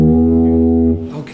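Electric guitar on the low sixth string, one loud sustained low note ringing for about a second before a quick change in pitch, close and alone.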